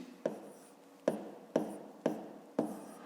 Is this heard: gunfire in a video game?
no